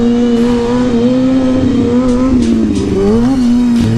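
A motorcycle engine revs hard while being powered up into a wheelie without the clutch, a steady loud drone rising and falling in pitch close by, with no talking.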